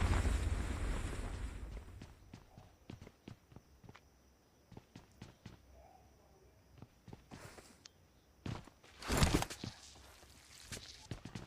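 Footsteps in the PUBG video game, heard as a steady series of short, soft, close thuds. A louder burst of noise comes near the end, and there is no talk.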